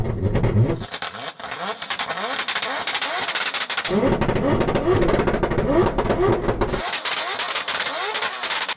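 A 1200 hp Lexus with a 2JZ engine revs hard, loud and close, its exhaust crackling and popping in rapid machine-gun-like bursts across several surging revs, with brief pauses between.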